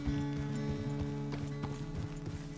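Horse hooves clip-clop in a quick, even rhythm in the video game Red Dead Redemption 2, close and moderately loud over a steady tonal background.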